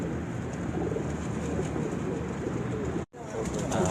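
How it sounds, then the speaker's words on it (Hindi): Ferozpuri pigeons cooing in a loft, a steady low murmur of coos running throughout with a brief dropout near the end, faint background noise alongside. "ਇਹ ਦੇਖੋ ਕਬੂਤਰ।"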